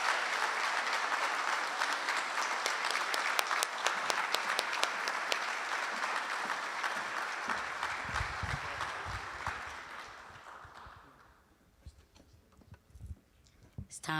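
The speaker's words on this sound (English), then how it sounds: "please give a round of applause for Amber Orozco" Round of applause from an audience at a scholarship luncheon, dense steady clapping that fades over about ten seconds and thins to a few scattered claps and murmurs.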